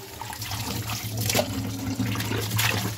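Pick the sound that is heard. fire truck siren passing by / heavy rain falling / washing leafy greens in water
washing leafy greens in water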